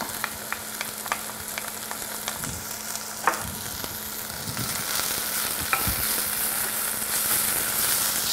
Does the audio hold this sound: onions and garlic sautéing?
yes